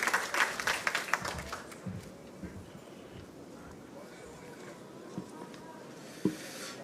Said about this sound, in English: Let's give a round of applause to the graduating class of 2023, their parents, their families, and the people who made it possible.